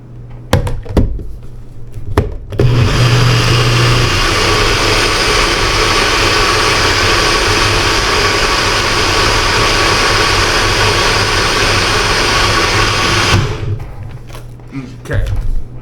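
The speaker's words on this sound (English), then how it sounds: "So we're going to blend this up real good in a bullet blender." A bullet blender whirs loudly and steadily for about eleven seconds while blending an orange cream smoothie, preceded and followed by clunks of the cup and lid being handled.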